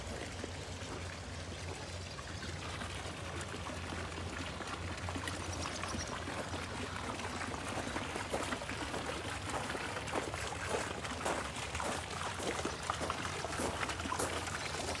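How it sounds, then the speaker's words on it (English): Steady splashing and pouring water fills the scene, a continuous rushing spray with no voices, growing slightly louder toward the end. "So these water fountains spout up then every so often."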